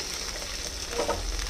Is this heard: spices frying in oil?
yes